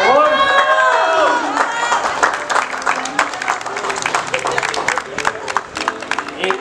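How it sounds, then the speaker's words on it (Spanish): Wedding guests break into applause after a toast; a voice calls out first, then a dense crowd clap with cheering and shouts swells up close and keeps going, mixed with chatter. "Fuerte aplauso, por favor."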